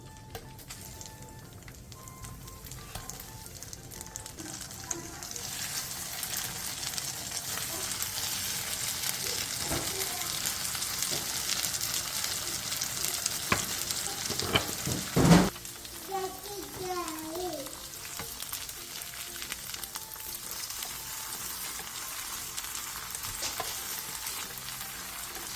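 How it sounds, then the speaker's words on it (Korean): Tofu fries in perilla oil in a pan over medium-low heat, giving a continuous soft sizzle throughout, with a brief clatter midway and faint voices in the background. "팬에 들기름 3스푼을 골고루 두른 뒤 두부를 올려 중약불에서 앞뒤로"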